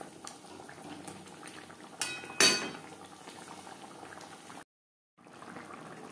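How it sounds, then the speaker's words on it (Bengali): Tilapia pieces simmering in an onion and tomato gravy, a steady low bubbling with a brief loud clatter of a utensil against the pan, then a short silent gap before the bubbling resumes. "গ্রেভির সাথে মাছ আরও 3-4 মিনিট রান্না করব।"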